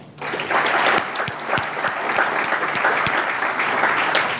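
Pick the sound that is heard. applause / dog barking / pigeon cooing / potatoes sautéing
applause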